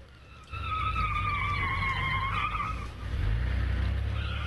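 A car speeds off with a revving engine while tires squeal in a long, wavering skid, then the engine roar swells nearby; moderately loud against a dramatic scene.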